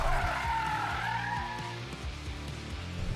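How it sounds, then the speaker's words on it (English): Hyundai i20 drifting with a handbrake turn: a loud high tyre squeal over the first couple of seconds while the engine revs in choppy bursts, then fading to engine and road noise. "turn in, handbrake, tap with the left foot and you get a better slide."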